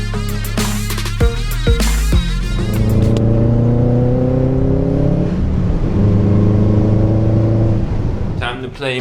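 Cars, including a Subaru WRX, being moved around a driveway, engines idling and revving in a steady drone with rising and falling pitch, under people talking near the start.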